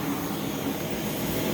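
A Rainbow water-filter vacuum cleaner from the brand's last machine series runs continuously, a loud, steady whooshing motor roar with a low hum, close by and without talk.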